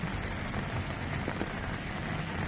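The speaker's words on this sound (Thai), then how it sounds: "เนื่องจากฝนได้ตกลงมาอย่างต่อเนื่อง" Continuous rain falls during flash flooding in Songkhla, making a dense, even hiss of drops on surfaces with no talk.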